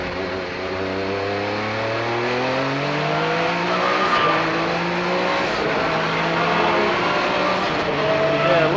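A Mazda RX-7 race car engine roars loudly and steadily, its pitch rising through the gears as it passes close on the front straightaway, with no talk over it.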